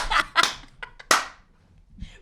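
Hands clap sharply for an intro, three or four close, crisp claps in quick uneven succession before the sound trails off into near silence.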